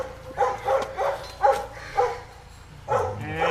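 A dog that tends to get rough and nip gives a run of short, sharp barks in quick bursts, close by, with a pause before one last burst.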